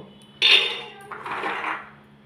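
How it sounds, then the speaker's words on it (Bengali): Dried peas poured into a metal pressure cooker make a brief, close rattling rush, a bright burst of pattering grains followed by a softer second pour that fades out. "মটরটাকে আমি এই কুকারের মধ্যে ঢেলে দেব"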